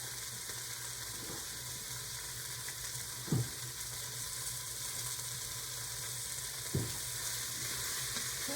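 Diced onion and garlic cloves sizzle steadily as they are sautéed with browned beef stew meat in an Instant Pot, with a couple of brief spoon knocks against the pot and no talking.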